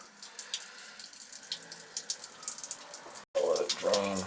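Water drains from a disconnected kitchen sink supply pipe during a plumbing rough-in, a steady close splashing trickle, followed by someone talking briefly at the end.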